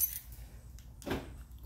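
Power door locks on a 2021 Honda Pilot cycle with a single short mechanical clunk near the middle, close by and fairly quiet, over a low steady background hum.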